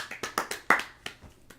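A quick run of sharp, close hand claps in a small room, several crisp slaps in an uneven rhythm, with no talking.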